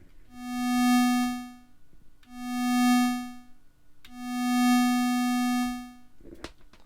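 Three synthesizer notes, each swelling in with a slow attack, easing down, holding steady and then fading out, leave a bright buzzy tone that rises and falls evenly, with a faint click at the end.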